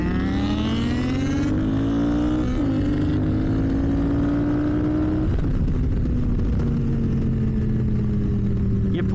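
Motorcycles accelerate hard from a standing start, their engines roaring loudly and close with rising pitch through the gears, a steady wall of engine noise throughout.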